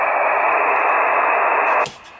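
Loud steady hiss of static from a Rockwell Collins HF-380 HF SSB transceiver on an external antenna, holding evenly for nearly two seconds before suddenly dropping to near silence.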